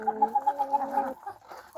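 An Orlov chintz rooster gives a quick series of rhythmic, close clucks for about a second, then softer scattered sounds follow.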